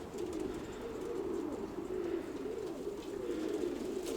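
Grey rock pigeons kept in a loft coo continuously nearby, a low rolling, throbbing murmur that pulses steadily and carries on without pause.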